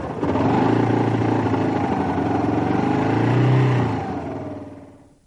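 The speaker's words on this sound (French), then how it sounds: "Faites à présent démarrer le moteur." A cold quad engine starts up on choke and runs with a steady buzzing drone, its pitch rising briefly before the engine cuts off and fades out.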